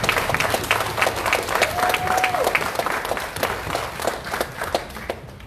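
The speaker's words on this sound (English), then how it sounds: "Everybody, let's get a round of applause for Reggie Griffin." Crowd applause at a KC Freedom Project rally in Lawrence, Kansas, greeting Reggie Griffin: a lively patter of many hands clapping, fairly close, with scattered cheers and a brief whistle-like tone, tapering slightly toward the end.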